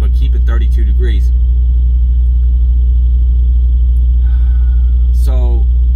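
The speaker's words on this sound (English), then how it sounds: "Sorry if you hear the reefer in the background." A truck trailer's reefer refrigeration unit runs as a loud, steady low-pitched drone throughout, with a constant mechanical tone above it and a person talking briefly over it at the start and end.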